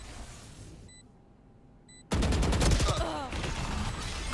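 Gunfire in the competitive shooter Valorant during a varsity esports match, a loud rapid burst of shots that cuts in abruptly after a quiet stretch and continues densely to the end.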